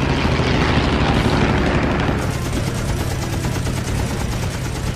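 Fighter plane machine guns rattle in a sustained, dense burst of rapid fire over a roaring engine, loud and close throughout, without pauses or talk.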